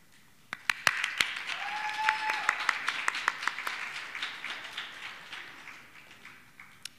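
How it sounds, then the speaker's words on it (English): A crowd at a nursing school pinning ceremony applauds its loved ones. A few sharp, close claps lead into steady, moderately faint applause that thins gradually over several seconds. "I would like us all to give a round of applause for our loved ones who helped us get here"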